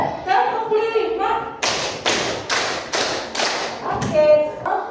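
Five evenly spaced bursts of hand clapping ring out in a row during a classroom clap-counting routine, with a teacher's voice leading in and following up.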